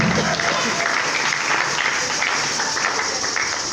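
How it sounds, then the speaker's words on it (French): A church congregation at a worship concert in Pointe-Noire breaks into loud, sustained applause and cheering for Jesus Christ, dense clapping filling the hall steadily with no pause. "Est-ce qu'on peut acclamer pour Jésus-Christ?"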